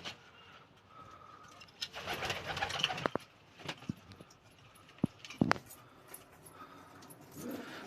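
Pigeons cooing in a loft, with soft low coos, scattered clicks and fluttering over a quiet background, some sounds close by and others farther off.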